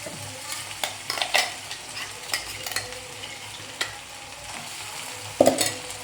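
Spices stirred into onions frying until browned, a continuous sizzle broken by scraping stir strokes and a few sharp utensil clinks against the pan, close and without talk.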